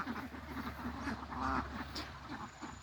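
Ducks at feeding time quack in short, repeated bursts, several calls overlapping at moderate distance and fairly soft volume.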